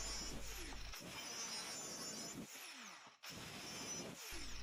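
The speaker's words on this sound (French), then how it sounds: "Pour cela j'ai utilisé la mini scie circulaire." A mini circular saw cuts through a plexiglass plate with a continuous loud whining, grinding drone. It dips briefly twice as the cut pauses, then resumes at full strength.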